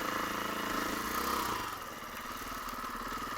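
Motocross bike cruising slowly around a dirt track, its engine a steady, continuous mid-pitched drone with a rattly buzz that eases slightly partway through, close and loud with no talking.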